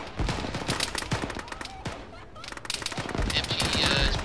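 Machine gun fire in the Arma military video game during a ShackTac session, rapid bursts of close automatic shots with brief pauses, then sustained fire with a faint whine near the end.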